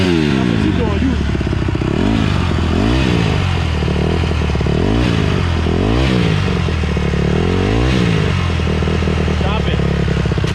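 A dirt bike engine roars close and loud, revving again and again in rising, falling surges every second or two during a novice's first ride, with voices faintly underneath.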